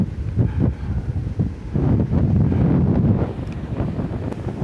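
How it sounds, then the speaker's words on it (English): Strong gusts of wind buffet the microphone on a beach, producing a continuous low roaring rumble that surges and eases, loud and close, with no speech. "We're out at the windy beach"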